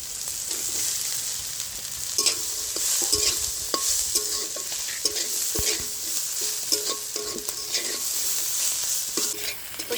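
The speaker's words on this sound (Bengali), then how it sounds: "পেঁয়াজ ভালো করে ভাজা হয়ে গেছে মাছ দিয়ে দেবো" Small mourola fish and onions sizzle steadily in a pan while a utensil scrapes and knocks against it in irregular bursts; no one speaks.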